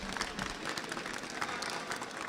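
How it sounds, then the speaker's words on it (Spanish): Steady applause from an audience at a university science talk series, many hands clapping evenly at moderate level with faint crowd murmur and no clear speech. "Fuerte el aplauso para el doctor Aldo Solari"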